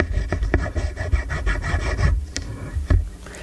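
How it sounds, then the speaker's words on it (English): Cables rubbing together make scratchy, rasping friction right against a Maono PD100X microphone. Short irregular scrapes come up close and loud, then ease into quieter brushing at the end. "Same story when we rub chords together."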